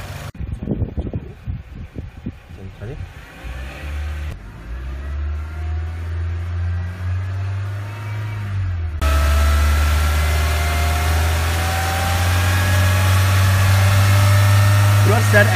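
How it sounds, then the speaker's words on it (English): A car engine idles and then rises to a higher steady hum as its speed is held near 3000 rpm for an alternator output test, with a low drone throughout and sporadic clatter at the start. "Keep engine speed to reach 3000."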